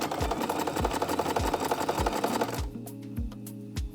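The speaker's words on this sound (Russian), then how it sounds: "Прокладываем строчку на ширину лапки." A sewing machine stitches a seam along a zipper set into a frame, a fast rhythmic mechanical chatter up close that eases to a slower run of separate stitches near the end.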